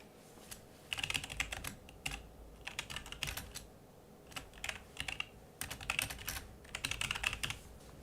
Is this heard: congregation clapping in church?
no